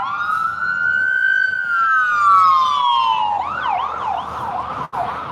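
An ambulance siren passes close by on the road: a long rising-and-falling wail, then a quicker yelping warble, loud and clear over faint traffic rumble.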